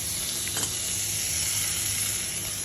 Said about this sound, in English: In a pan of hot oil, we put one medium-sized onion ground